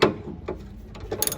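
A ratchet with a 14 mm socket tightens a rear sway bar bolt on a 2007 Hyundai Sonata, giving quick, close metallic clicks in short bursts of pawl ticking.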